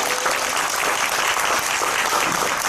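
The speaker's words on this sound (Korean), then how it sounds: "다시 한번 박수 부탁드립니다." Steady audience applause fills a Korean conference hall during a climate school-meals forum session, dense continuous clapping at even loudness without talk for the whole stretch.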